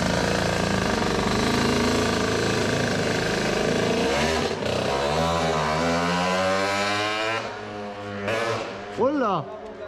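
A motorized bicycle's engine revs hard and buzzes loudly, holding high revs, then drops and rises again in quick throttle bursts, with voices talking over it.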